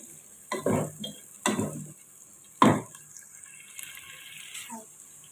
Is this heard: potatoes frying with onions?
yes